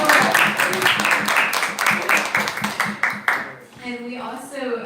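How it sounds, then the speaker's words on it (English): A small audience claps steadily in a round of applause, with a voice talking over the end as it dies away. "She should get a round of applause also."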